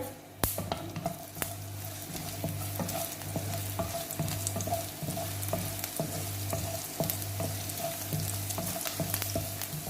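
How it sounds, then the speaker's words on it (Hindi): Chopped green chili and garlic fry in a pan for veg momos, with a steady soft sizzle and regular scraping stir strokes, close and fairly quiet, with no talk. "हल्का सा इसे भूनना है, बहुत ज़्यादा नहीं।"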